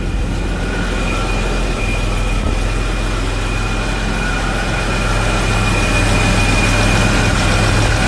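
A 1974 Jaguar XJ6 Series 2 short-wheelbase sedan idling on a cold engine, giving a steady, even low rumble with a faint constant whine, continuous and close, with no voices.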